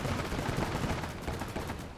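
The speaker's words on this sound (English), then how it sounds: "Someone else is shooting at me right now." Gunfire in the World War II real-time strategy game Gates of Hell, a dense, continuous crackle of rifle and machine-gun shots blending into a loud, unbroken rattle of battle.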